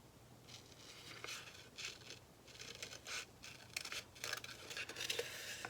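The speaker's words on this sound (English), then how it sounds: "we're going to actually cut out this piece because we're going to use it as a guide" Scissors cut out a fabric pattern piece for a satchel, with repeated soft snips and paper-like scraping in an irregular rhythm, close but quiet.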